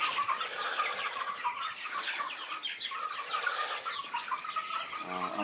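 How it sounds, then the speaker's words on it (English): Young chicks under a heat lamp in a brooder fill the space with continuous, overlapping high cheeping and soft clucking, close and moderately loud. "I'll let you look at the chickies for a while again."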